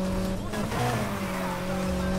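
Mitsubishi Lancer Evo 10 engine in the video game Need for Speed Heat, a steady sustained drone with rising and falling pitch as the car accelerates, loud and continuous with faint voice underneath.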